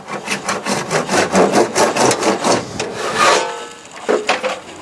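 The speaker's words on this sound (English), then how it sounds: "Now we'll just trim off the piece of pipe inserted through the back of the cistern." Trimming off a toilet ventilation pipe inserted through the back of a cistern: close, loud, rhythmic back-and-forth sawing strokes, about a dozen quick passes, then a pause and a couple of final strokes.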